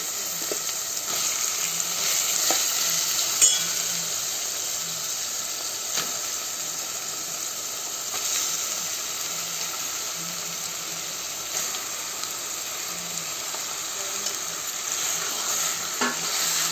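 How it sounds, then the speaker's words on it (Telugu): Chicken pieces fry in a pot with onion, green chilli, ginger-garlic paste and masala, giving a steady close sizzle throughout with occasional stirring clinks and scrapes. "ఇప్పుడు చికెన్ ముక్కలు వేసుకుంటున్నాం"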